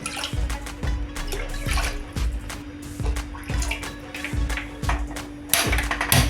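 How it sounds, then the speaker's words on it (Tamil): Water poured from a tumbler into a cooking pot for one-pot sambar rice, a steady close splashing stream with regular soft clicks and a faint hum underneath, no talking. "1 டம்ளர் எக்ஸ்ட்ராவாக சேர்த்து 5/2 டம்ளர் தண்ணி ஊற்றிக்கிறேன்"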